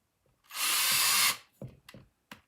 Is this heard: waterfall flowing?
no